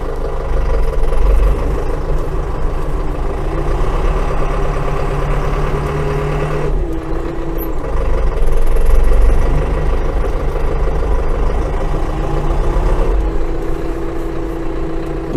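A TUMOSAN 5275 garden tractor engine runs steadily at idle, a constant low rumbling drone that swells slightly partway through, close and loud with no talking.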